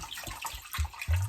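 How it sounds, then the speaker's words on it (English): Bottled spring water pours into a pot for Russian solyanka soup, a close, steady splashing gush with deeper gurgling glugs as the stream hits, with no voices. "why am I pouring water from a bottle?"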